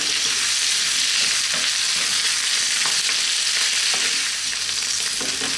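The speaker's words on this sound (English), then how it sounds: "Let's go for another 4 or 5 minutes, stirring often." A medium-sized onion fries with garlic-ginger paste over above-medium heat for a vegan potato curry, a loud continuous sizzle with faint scraping stir strokes now and then, close up and without voices.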